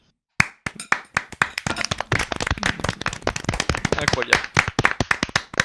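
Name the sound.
clapping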